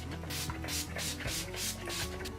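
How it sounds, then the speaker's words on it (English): Several quick hissing spritzes from an Urban Decay All Nighter setting spray bottle, about five bursts in a steady rhythm, close up over a low mechanical hum. "I'm going to use the Urban Decay All Nighter spray"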